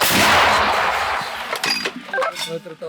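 A British L119 howitzer fires near Bakhmut, a heavy blast opening with a loud, sustained roar that slowly fades, followed by clinking metallic rattles and scattered clanks.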